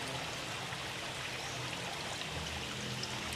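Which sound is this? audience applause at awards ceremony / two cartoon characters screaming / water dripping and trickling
water dripping and trickling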